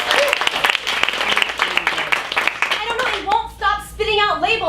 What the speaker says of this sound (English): Give them a round of applause to get started